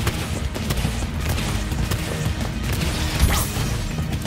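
Combat against the Sorceress boss in Spyro Reignited Trilogy, a busy layer of game effects with repeated crashing impacts, thwacks and blasts, plus a rising whoosh near the end, with no talking over it.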